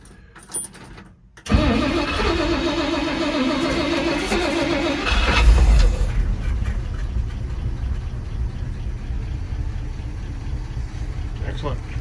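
A 1961 Dodge D300 truck with a Poly 318 V8 cranks briefly, catches and settles into a loud, steady idle close by, with voices talking over the running engine.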